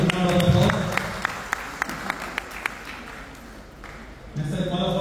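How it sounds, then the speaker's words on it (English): Applause from the audience at a Lions Club installation ceremony for a new president and team, a burst of clapping with sharp individual claps standing out, fading and then swelling again near the end. "Please give them a big round of applause."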